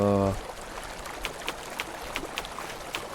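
Water from a failed flood control project rushes and trickles steadily, a broad continuous wash with scattered splashy bursts, after a brief low hum at the start.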